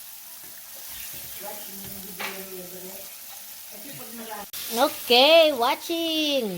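Chicken pieces fry in oil for crispy fried chicken, a soft sizzle sitting under a person talking close by.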